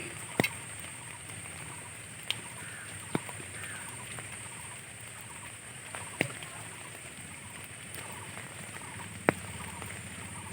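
Rain falls steadily on a pond during fishing, a soft continuous patter and hiss with a few sharp drops or splashes standing out now and then.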